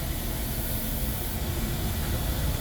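Steam discharging from a 27.5 mm steam generator fitted with FlexSteam, a steady broadband hiss that holds at the same level throughout, fairly close and continuous with no talk over it.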